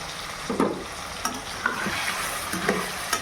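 Drumsticks frying with half-cooked tomato and onion for a drumstick curry, a low steady sizzle with a few spatula scrapes and light knocks against the pan.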